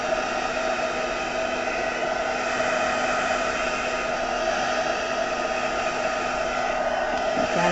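A heat tool blows a steady, loud, even whoosh for several seconds while drying a piece of card during a craft project, the tone unchanging throughout.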